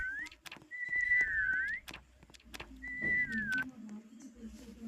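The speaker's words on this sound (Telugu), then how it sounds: "సో గైస్ ఎప్పుడైతే విజిల్ వేసాం" Whistling in a Roblox video game: two drawn-out whistled notes, each wavering and sliding downward, over a faint low hum and scattered clicks.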